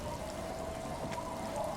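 Rain falls steadily in the Disco Elysium game world, a soft continuous patter heard alone for a short moment.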